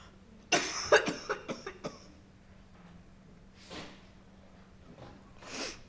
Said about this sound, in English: and I'm gonna cough.